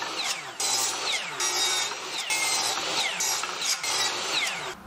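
Power saw beveling the end of a thin wood piece at 22.5 degrees for a bedroom arbor, loud repeated rasping cuts in bursts of about a second with short pauses between.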